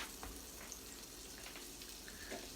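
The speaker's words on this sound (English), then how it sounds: "So, yep, it's just sizzling away here." Steady crackling sizzle of butter frying in a hot Dutch oven over a fire, close and continuous, with a few louder pops near the end.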